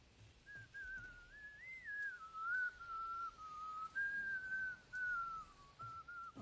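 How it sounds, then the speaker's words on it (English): A character in the video game Outriders whistles a wandering, somewhat off-key tune, a thin continuous whistle with short breaks, fairly quiet against a low background hum, with no speech. "they found somebody that couldn't whistle"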